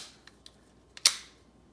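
A Ruger Mark IV Hunter pistol part is hooked back into place, with a few faint light clicks followed by one sharp, close metallic snap that rings briefly before quiet.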